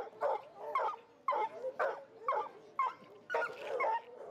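Several coonhounds bark and bay at coon dog trials at a festival in Tahlequah, in a steady run of about eight loud, drawn-out calls, overlapping slightly and heard fairly close.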